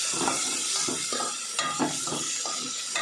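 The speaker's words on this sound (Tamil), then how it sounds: "தக்காளி போட்டு தக்காளி நல்லா ஃப்ரை பண்ணணும்" Tomatoes frying with garlic and onion in a pan for fish curry, a steady bright sizzle with rhythmic stirring scrapes and clinks of a spoon against the pan, close up.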